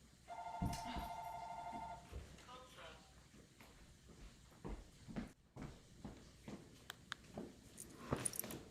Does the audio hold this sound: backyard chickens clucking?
no